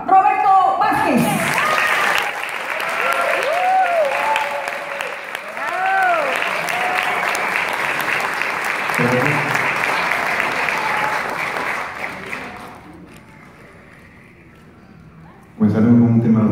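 Concert audience gives strong applause as a guest singer is welcomed, a dense continuous clapping crowd with voices and music mixed in, fading toward the end before a louder sound returns.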